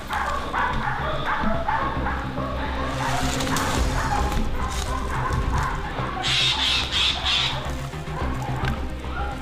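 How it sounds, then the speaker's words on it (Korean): Several hunting dogs bark excitedly and continuously at a short distance during a wild boar hunt in Korea, overlapping yips and barks with some rustling and commotion. "이때 멀지 않은 곳에서 개 짖는 소리가 요란하게 들립니다."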